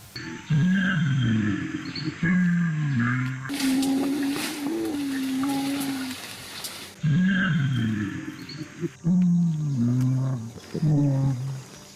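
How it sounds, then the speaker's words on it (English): Low, tuneful humming calls from gorillas singing while they eat come in repeated rising and falling phrases, broken by a brief burst of rustling noise. "gorillas have also been recorded singing while they eat"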